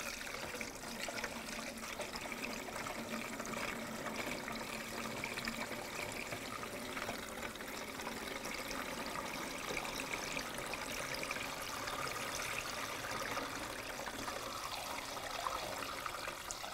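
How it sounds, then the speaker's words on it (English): Windshield washer fluid poured through a funnel into the reservoir of a 1999-2006 Chevrolet Silverado 1500, a soft, steady trickle of liquid flowing continuously, quiet and close. "I'm going to put the wash fluid back in, use a funnel"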